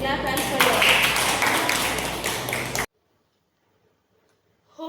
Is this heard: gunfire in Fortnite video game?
no